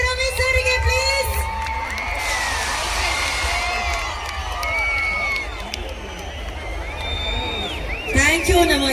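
Crowd at a Kannada community celebration in Hebbagodi cheering and whooping for actor Ravichandran, a continuous loud roar of voices and shouts with a host's amplified voice and music carrying over it.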